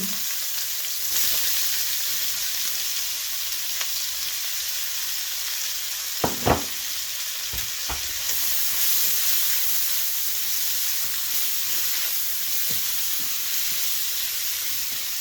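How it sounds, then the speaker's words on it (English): Onion sautés in a pan for butter chicken gravy, giving a steady soft sizzle throughout with a few sharp clicks of a utensil against the pan around the middle and no talking. "Just saute the onion"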